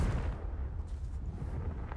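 A fiery Confringo spell blast in the Hogwarts Legacy video game, heard as a dense, rumbling low-end roar sustained steadily across the moment with no talk over it.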